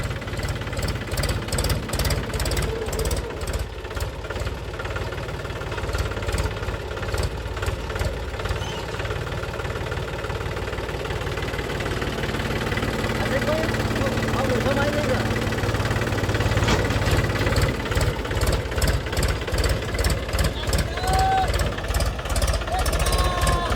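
A tractor engine idling nearby with a steady, loud knocking chug throughout, while people talk over it.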